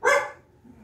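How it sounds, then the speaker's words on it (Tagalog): One sharp, close dog bark rings out, then a faint low trailing sound follows. "May aso, ha? Aso?"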